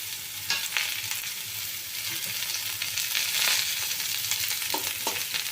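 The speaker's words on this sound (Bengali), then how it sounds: "মাঝখানে যে তেলটুকু রয়েছে আমি এর মধ্যেই রান্নাটা করব তো এর মধ্যে আমি ফোড়নের মশলাগুলো সব দিয়ে দিলাম" Whole tempering spices sizzle and crackle steadily in hot oil in a pan over a low flame, with occasional stirring scrapes and no talking.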